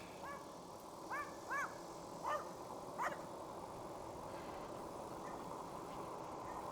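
A dog in a quiet residential neighborhood barks several times in short, distant bursts at a passing e-bike rider, then falls silent against steady road and wind noise.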